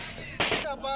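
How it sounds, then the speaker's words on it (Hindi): A single loud firework burst cracks at a Jharkhand election celebration, a short booming blast amid background noise and faint whistling tones. "कार्यकर्ताओं ने जश्न मनाते हुए जमकर आतिशबाजी की"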